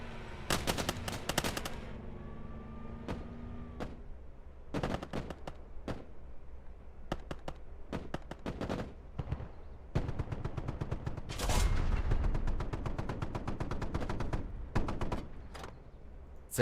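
Bursts of machine-gun fire and single heavy gunshots crack repeatedly in a WWII tank battle in the Call to Arms: Panzer Elite sim, some loud and close, others sharper, over a steady rumbling engine bed.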